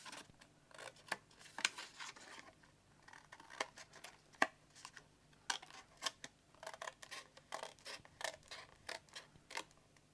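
Paper card is cut with scissors to free a tab, heard as a series of faint, close snips and creaks in an irregular rhythm, with no voices.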